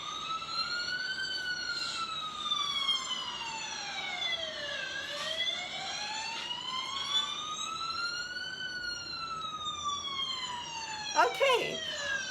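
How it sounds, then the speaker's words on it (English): A wailing siren sweeps slowly up and down in long rising and falling cycles, loud and steady, with a brief sharper burst near the end. "here's a sound of the fire engine for you to imitate"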